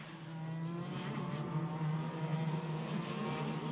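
X30 Super karts race into the first corner at a Mariembourg karting event, their engines a continuous, fairly distant buzzing drone that holds steady throughout without voices.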